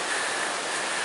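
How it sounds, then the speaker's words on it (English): Tunnel Falls on the Eagle Creek Trail roars as a dense, steady rush of falling water, loud and close, with no talking over it. "We've been passing waterfalls all along this trail."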